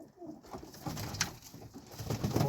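Pigeons coo softly in low, repeated murmurs, fairly faint against a noisy background.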